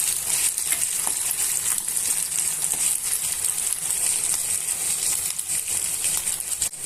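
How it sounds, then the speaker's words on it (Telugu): Ginger garlic paste frying in a pan for a raw banana masala curry: a loud, dense, continuous sizzle, close up, with faint stirring clicks and no talking. "అల్లం వెల్లుల్లిపాయ పేస్ట్ని వేసుకున్న తర్వాత పచ్చివాసన పోయేంత వరకు వేయించుకోండి."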